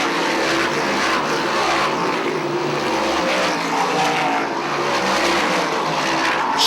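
Modified race cars roar down the straightaway at Airborne Speedway in Plattsburgh, New York, a loud, steady blend of engines that holds without a break.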